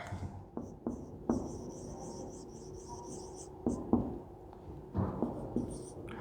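Chalk or marker strokes on a classroom board during a grade 6 science lesson, a series of short scratchy writing bursts with pauses between them and a faint high background hiss.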